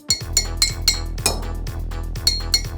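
Someone opens a glass bottle of soda: a quick series of sharp, bright glassy clinks in an uneven rhythm, close and fairly loud over a low hum, with no speech.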